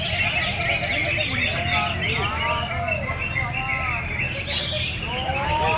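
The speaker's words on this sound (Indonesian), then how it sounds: "Diadakan lomba burung bekicau." Several songbirds chirp and trill in busy overlapping phrases at a bird-singing contest in Balikpapan, set against a steady crowd murmur and occasional cooing.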